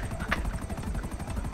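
A game helicopter in Grand Theft Auto V, its main rotor about to break, thumps with a steady fast chop, loud and continuous throughout.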